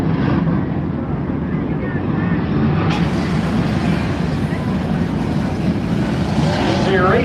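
Late model race cars drone around Muskingum County Speedway during a heat race, a steady roar of engines with a rising whine as cars pass, under a track announcer's commentary.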